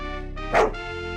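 A single close, clear dog bark from the RPG Maker game Unterwegs in Düsterburg, sounding alone over a steady game music backdrop.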